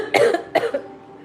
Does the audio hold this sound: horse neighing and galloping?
no